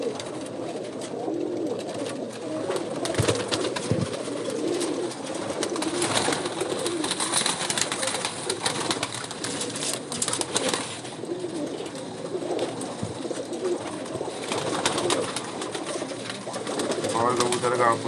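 Pigeons of a flying breed cooing in soft, repeated throaty calls close by, running steadily for a long stretch over a busy background hum, with someone speaking intermittently in between.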